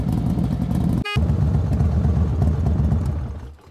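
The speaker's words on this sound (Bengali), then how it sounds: "আমি আর আমার ছোট বোন আমরা আজকে ম্যারাথন বাইক রাইডিংয়ে বের হয়েছি।" A motorcycle engine hums steadily and loud during a long ride near Mymensingh, with a brief cut partway through and the drone fading slightly near the end; no talk.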